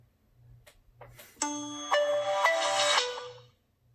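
Start-up jingle of a Samsung Rugby AT&T mobile phone: a bright, loud electronic melody of ringing tones that swells in after a faint lead-in, holds for about two seconds, then cuts off into silence.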